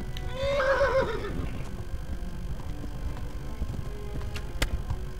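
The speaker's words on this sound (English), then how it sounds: "Se está cansando el caballo." A horse in the video game Kingdom Come: Deliverance gives a loud whinny near the start, followed by a muffled, rumbling gallop and a few sharp knocks.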